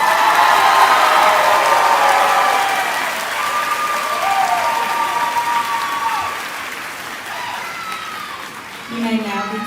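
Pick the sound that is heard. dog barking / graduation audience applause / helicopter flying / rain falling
graduation audience applause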